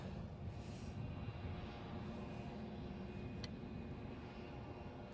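An airplane departs Edinburgh airport bound for Stornoway, a faint, distant, steady jet roar that holds evenly throughout with no one talking.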